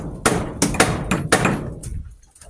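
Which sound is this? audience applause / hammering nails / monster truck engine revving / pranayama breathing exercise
hammering nails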